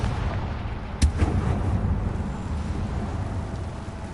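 Confringo fire spell blast in Hogwarts Legacy, a single sharp booming impact that cuts through a steady rumbling background, followed by a short rolling tail; no voices.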